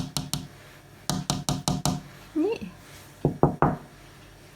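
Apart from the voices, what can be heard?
knocking to call a cat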